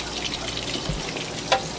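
Fresh mozzarella sticks fry in hot oil, giving a steady crackling sizzle inside an RV kitchen, with one brief sharp clink partway through.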